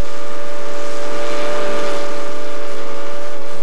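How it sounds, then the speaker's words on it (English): A steam locomotive whistle on the Georgetown Loop Railroad blows as one loud, steady, continuous tone that holds unbroken throughout. "The whistle is used as a signaling device and as a warning device."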